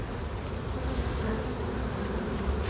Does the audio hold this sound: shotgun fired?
no